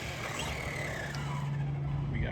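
Junkyard Senton, a small RC car, runs under throttle with a steady whining motor hum over constant broadband noise, a brighter tone rising near the end.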